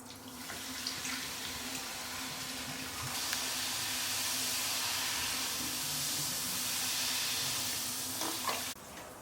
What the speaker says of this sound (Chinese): 然后倒可乐